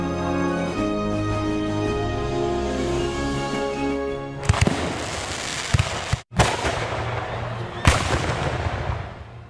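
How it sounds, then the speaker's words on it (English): Independence Day fireworks at a park celebration crackle and burst over steady music and crowd noise, with several sharp loud pops midway. "along with the fireworks and drone show"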